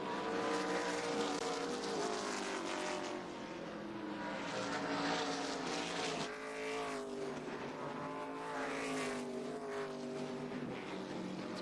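ARCA Menards Series West race cars zip down the backstretch past turn 2. A steady, blended engine roar comes from several cars, swelling and fading at mid distance with no voices.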